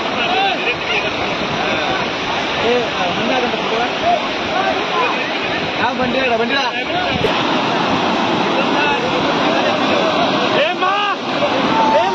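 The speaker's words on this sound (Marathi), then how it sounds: "पाण्याचा आवाज भरपूर असल्यामुळे माझा आवाज तर काही येणार नाही इकडे" Loud, constant roar of a river rushing and churning over a rock slide near Beloshi village, filling the whole scene, with faint voices buried underneath.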